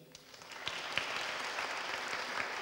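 An audience at a book launch claps steadily, a dense and fairly distant patter of many hands that holds an even level throughout, with no talk over it.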